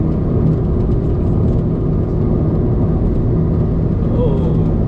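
A Proton Iriz 1.6L manual hatchback's engine drones loud and steady through a corner, a constant rumble heard from inside the cabin with someone talking over it.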